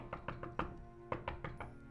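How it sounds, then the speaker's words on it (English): Knocking at a wooden door comes as two quick groups of four dull raps with a short pause between, moderately close and clear, with no talking. "this incessant knocking at the door"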